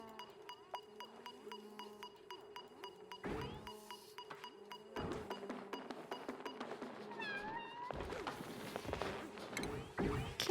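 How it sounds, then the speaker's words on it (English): A kitten meows several times in short bursts over soft game music in Oxygen Not Included, with light clinks and taps mixed in. "Kitten. Kitty noise."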